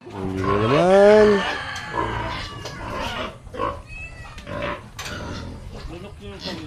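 A cat waits by a fishing spot where tilapia are being caught and gives a loud, drawn-out meow up close, followed by softer sounds as people talk nearby.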